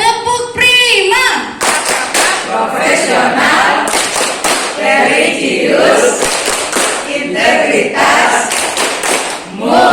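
A group of primary school pupils and teachers perform a rhythmic clapping chant, loud sharp claps in quick patterned bursts mixed with shouted voices, close and energetic.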